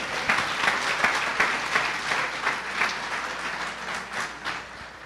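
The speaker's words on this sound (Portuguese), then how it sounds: "Uma salva de palmas ao Senhor." A church congregation gives a round of applause during a communion service, a steady, full sound of many hands clapping sustained for about five seconds.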